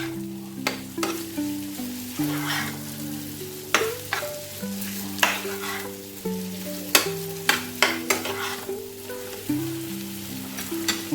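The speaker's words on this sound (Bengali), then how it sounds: "খুব ভালো করে তেলের সাথে মিক্সড করে নেব।" A potato chop mixture is stirred with oil in a pan, with soft sizzling under repeated sharp scrapes and knocks of a spoon against the pan. Quiet tonal music plays throughout, and no one speaks.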